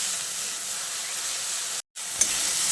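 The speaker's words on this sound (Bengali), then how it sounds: "এবার পেঁয়াজটাকে ফোড়নের সঙ্গে কিছুক্ষণ একটু ভাজা ভাজা" Ground onion paste frying in oil with whole-spice tempering for a dahi bhindi masala: a loud, steady, close hiss of sizzling broken by one brief silent cut, then the sizzle resumes.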